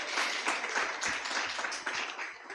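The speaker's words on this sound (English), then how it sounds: "A better round of applause." An audience at a data summit session in Kisumu claps for a couple of seconds, a dense, moderately loud patter of many hands that rises slightly and then tapers.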